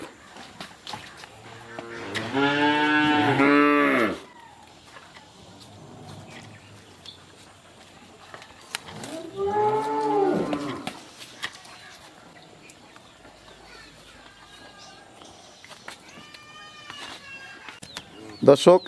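Heifers let out two long, drawn-out moos several seconds apart, with quieter voices and farmyard noise in the background.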